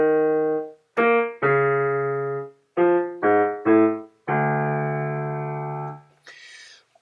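A pipe organ sounds sustained chords and notes in a lenten meditation, moving through descending seventh intervals with steady, reedy tones, loud and clear, the notes held then breaking off in turn.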